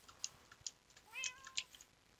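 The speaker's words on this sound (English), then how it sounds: "What has that cat found that he wants now?" A cat in Minecraft lets out a few short game meows that stand out faintly against a quiet background, mixed with soft clicks and keyboard typing.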